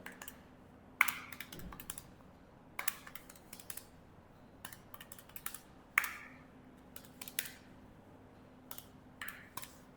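Calculator keys pressed in short bursts of quick, close clicks with gaps between runs, crisp and moderately quiet over a faint steady hum.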